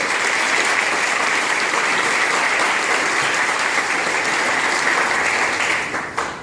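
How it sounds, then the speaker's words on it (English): Sustained, loud applause from an audience at an 8th grade graduation ceremony, dense even clapping filling the hall for several seconds before tapering off at the end. "let's give a round of applause to all the parents"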